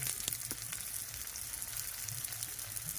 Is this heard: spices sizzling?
yes